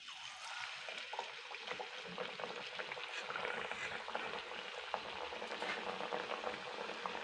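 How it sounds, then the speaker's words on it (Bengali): Snacks deep frying in hot oil for an evening tea-time treat, a steady dense crackling sizzle with bubbling that runs continuously and fairly loud, with no talking. "এরকম করে সবগুলো ভেজে নেবো"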